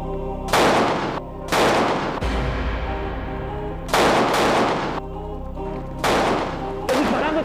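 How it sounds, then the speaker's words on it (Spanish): Gunfire in a TV drama shootout: five loud, close bursts of rapid shots, each lasting around half a second, separated by pauses with a low background rumble. "¡Están disparando, teniente!"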